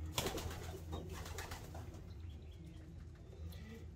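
A Veenstra pigeon coos softly nearby, low repeated murmuring under faint background noise, quiet and close.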